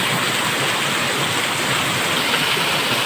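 Water rushes steadily across a flooded farm field, a loud, continuous broadband wash heard close up with no breaks or voices.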